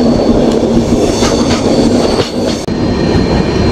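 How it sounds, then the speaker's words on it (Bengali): Kanchankanya Express rolling along, heard from inside a first-class AC coach: a steady rumble with rhythmic clickety-clack of wheels over rail joints, close and continuous with no talk. "ট্রেন এখন পাস করছে আরেকটা ইন্টারমিডিয়েট স্টেশন"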